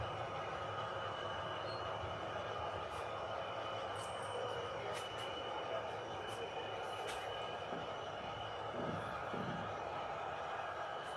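Model trains running on a home layout produce a steady, continuous rolling rumble with faint metallic squeals and brief high clicks throughout, fairly quiet overall, with occasional low murmurs of voices in the room.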